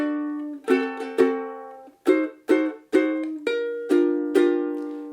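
Ukulele strums and plucked notes from the second ending of a waltz, bright chords struck in an even three-beat lilt with ringing decays, played solo and close.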